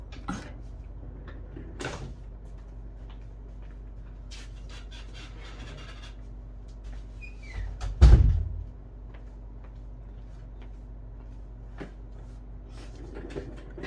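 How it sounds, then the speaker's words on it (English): A single door thuds shut midway, preceded by faint clicks and handling noises in a quiet room. "Just let me close the door."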